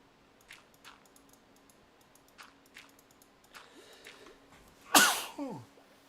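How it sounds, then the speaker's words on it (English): A single loud, close sneeze bursts out near the end after quiet background with faint clicks, as in keyboard typing. "big sneeze again"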